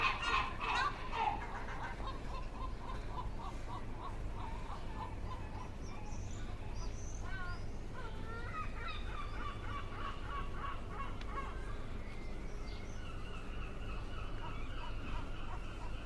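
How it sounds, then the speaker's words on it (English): Harsh, squawking gull calls ring out repeatedly at a distance over a low steady rumble, overlapping in loose, irregular bursts. "The seagulls have taken over."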